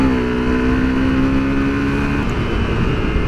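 Motorbike accelerating hard through a gap while lane splitting in traffic, a loud close engine note that rises in pitch and then holds a steady, rough drone, with no voices.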